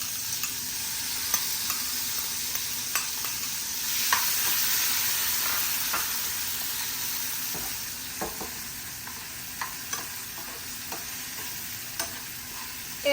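Mango pickle with hing stirred in a pan, a steady faint sizzle broken by soft clicks and scrapes of a spoon, with no voices.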